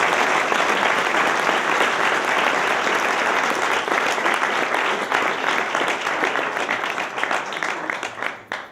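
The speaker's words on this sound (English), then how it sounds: "Let's give a round of applause for the Daily Hampshire Gazette." Audience at an awards ceremony breaks into sustained applause, a dense, loud wash of many hands clapping that holds steady for several seconds, then tapers off at the end.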